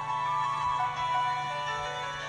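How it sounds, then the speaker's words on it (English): A synthesized rendition of Pachelbel's Canon plays as a phone ringtone in the Wii game I Wanna Play Calling, a steady electronic melody over a low hum, with no voices. "they put in Pock Bell's Cannon as a ringtone"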